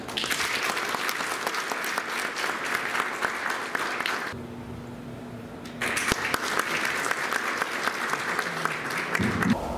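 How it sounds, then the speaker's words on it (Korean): An audience at a CEO-course forum lecture applauds to welcome Democratic Party co-chair Lee Nak-yon, a loud, dense run of clapping that dips briefly midway, then surges back and carries on strongly. "우리 큰 박수로 환영해 주시기 바랍니다"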